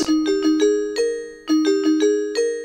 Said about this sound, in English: Tinkle bell.